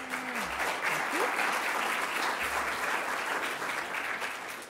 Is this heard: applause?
yes